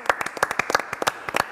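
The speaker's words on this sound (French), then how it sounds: "on peut l'applaudir" A studio audience on a French-language television talk show applauds with distinct, fairly sparse claps at close range, roughly a dozen sharp hits spread unevenly over under two seconds with no voices on top.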